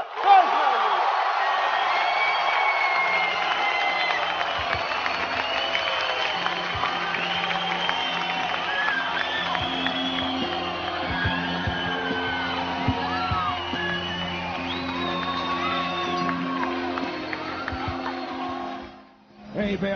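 A television studio audience on Beyaz Show cheers, whoops and applauds for Sagopa Kajmer, with a loud crowd roar and shouts running throughout alongside steady tones and voices, then dropping away briefly at the very end.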